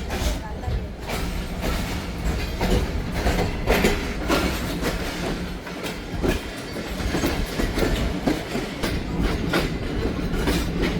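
Karachi Express passenger train runs steadily in sleeper class, its wheels rumbling and clattering over the rails continuously while people chat inside the carriage.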